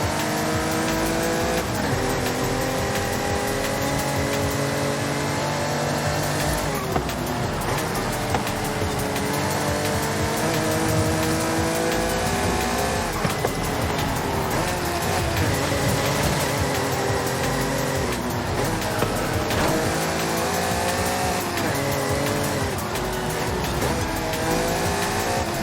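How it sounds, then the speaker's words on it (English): An Acura NSX races in Forza Horizon 5, its engine revving and shifting continuously with tire squeal through corners, loud and steady throughout. "Now that NSX has some real get up to go."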